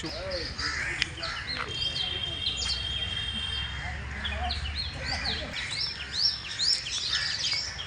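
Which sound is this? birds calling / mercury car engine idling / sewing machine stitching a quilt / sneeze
birds calling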